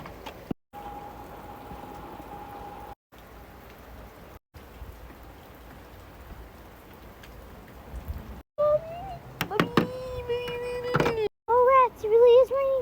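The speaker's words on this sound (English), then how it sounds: "it really is raining hard out here" Heavy rain pours steadily outdoors as a constant hiss, interrupted by a few brief gaps. A voice speaks over it later, with some sharper tonal sounds.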